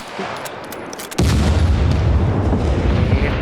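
A sudden, heavy explosion in the survival video game SCUM bursts in after a quieter stretch of gunfire-like crackle, then rolls on as a loud, sustained low rumble to the end.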